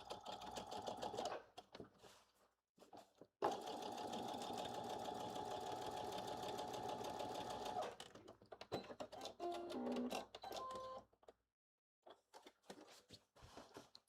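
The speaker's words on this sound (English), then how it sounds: "So I'm just going to stay stitch the neck edge." A sewing machine stay-stitches the neck edge of a Simplicity 9825 blazer in fast rattling bursts, one long steady run in the middle flanked by shorter starts and stops, close and clear with no talking.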